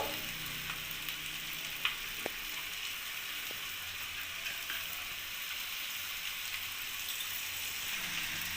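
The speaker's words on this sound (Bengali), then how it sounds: "এইভাবে নাড়তে নাড়তে কষাতে হবে মশলাটা" Potato curry masala with new potatoes frying and being stirred in a wok, a faint, even sizzle broken by a few light clicks and taps, heard alone.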